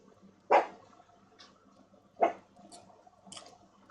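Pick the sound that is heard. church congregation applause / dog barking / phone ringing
dog barking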